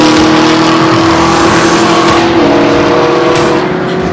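Race cars roar around the Barber Motorsports track, a loud continuous engine drone with a steady high whine that dips in pitch midway, close and without any talk over it.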